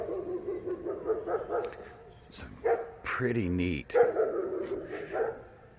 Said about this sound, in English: All right, dogs.